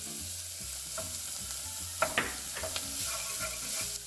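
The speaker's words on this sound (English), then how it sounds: "just let this go ahead and cook down until these onions are translucent" Chopped onions and garlic sizzling in avocado oil with bouillon in a pan. A steady close frying hiss runs throughout, with a few sharp clicks and scrapes of stirring.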